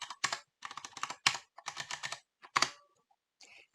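Quick typing on a computer keyboard comes in close bursts of clicking keystrokes separated by short pauses, with no one talking.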